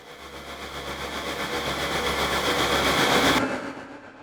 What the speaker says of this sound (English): I got a riser preset here. It's really just a bunch of risers and then one texture layer